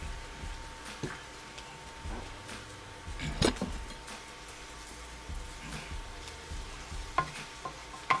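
Bell peppers frying in butter in a stir-fry pan, a low steady sizzle with occasional scrapes and clinks of a utensil stirring, quiet and close.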